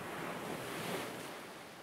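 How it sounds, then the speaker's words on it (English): Cold sea waves crash against grey rocks along a shore, a steady, dense wash of surf with a windy hiss that continues evenly throughout, with no voices. "In the shores, there was nothing but the cold waves crashing against the grey rocks"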